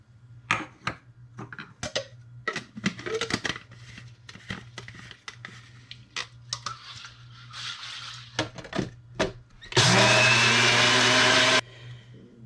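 Mustard being ground in a blender, a loud steady whir from about 10 to 11.5 seconds, preceded by scattered clinks, taps and handling noises of kitchen prep.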